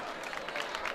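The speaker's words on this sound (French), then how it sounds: "On peut les applaudir là, chers parents, chers élèves." Parents and students applaud at a school event, a dense burst of clapping from a crowd, steady and moderately loud for the whole moment.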